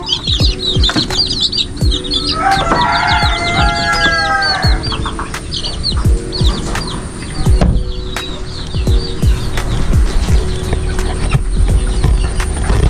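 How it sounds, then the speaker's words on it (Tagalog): Brooded chicks keep up continuous high, busy chirping and peeping close by, with occasional louder clucks and scattered taps and knocks from the brooder throughout. "Ito po yung aking mga binobroding na mga sisiw"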